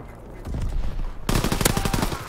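A rapid, loud burst of machine pistol fire in Call of Duty, close and punchy shots packed tightly together after a brief lower rumble.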